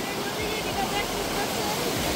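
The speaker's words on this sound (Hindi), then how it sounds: "कितना प्यारा झरना आ रहा है ऊपर से" Steady rushing hiss of a waterfall at Yousmarg in Kashmir, a constant close wash of falling water filling the whole clip without pause.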